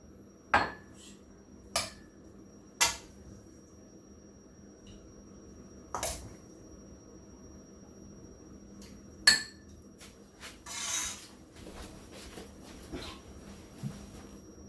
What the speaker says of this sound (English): Now I'm gonna put my seafood on these pie dishes.